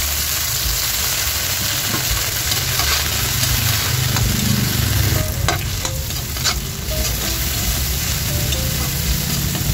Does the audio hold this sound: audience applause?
no